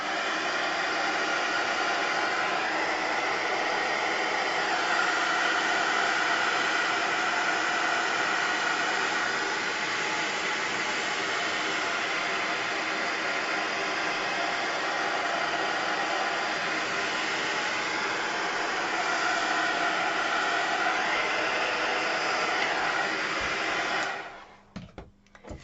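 A hair dryer blows steadily on painted craft work to dry a patina paint layer, a loud constant airy whoosh running close for about twenty-four seconds before it switches off with a few handling knocks.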